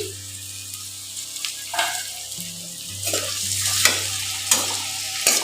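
Tomatoes sizzle and fry in a pan with salt, a steady close hiss punctuated by several sharp stirring scrapes and clicks, with no talking.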